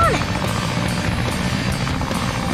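Steady propeller-plane engine drone from the Sonic Adventure video game, a loud continuous whirring hum with game music and voices layered over it.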